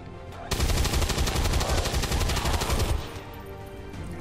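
Gunfire in the video game XCOM 2, with pistol shots ringing out as a dense, loud burst of rapid cracks for a couple of seconds before giving way to quieter background sound.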